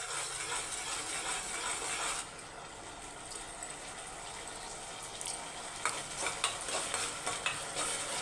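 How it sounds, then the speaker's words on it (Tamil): Masala frying in oil for Dindigul chicken biryani being mixed in a pan, a soft continuous sizzle that quiets partway through before faint spoon scrapes and taps, close but low in level, with nobody talking. "ஒரு 2 செகண்டுக்கு நீங்கள் அப்படியே மிக்ஸ் பண்ணிக்கோங்க."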